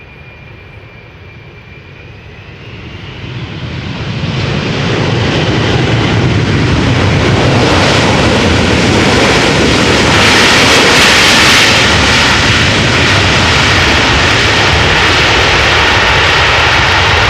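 A jet airliner lands at Amsterdam Schiphol Airport, its engine roar building from a moderate rumble to a loud, steady, broadband wash that holds close and strong for over ten seconds, with no voices.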